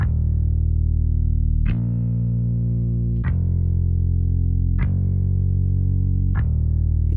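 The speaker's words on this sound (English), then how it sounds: "I switched to a more electric sounding bass." Electric-style bass from a software instrument plugin playing slow, long sustained notes, about five evenly spaced plucked attacks each ringing out smoothly, close and steady with no talking.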